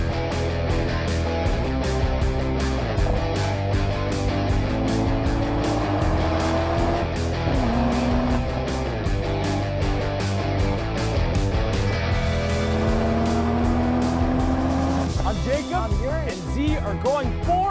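A 2025 BMW Z4 sports car with manual transmission driving, a continuous engine drone rising and falling through the gears with faint tire noise, while people talk over it throughout.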